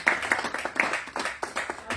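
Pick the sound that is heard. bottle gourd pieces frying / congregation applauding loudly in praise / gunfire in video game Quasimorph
congregation applauding loudly in praise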